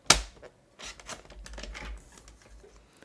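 A paper trimmer slicing paper pieces diagonally from corner to corner, with a sharp initial click followed by a quick rasping slide of the blade, close and brief.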